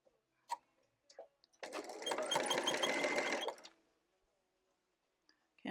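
A sewing machine stitches quilt binding in one steady, close run of about two seconds, framed by a few soft clicks and handling noises before and after.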